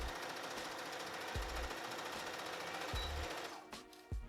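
A sewing machine stitches waistband pieces onto a pair of shorts, a steady fast rattling drone running close and continuous before easing off near the end.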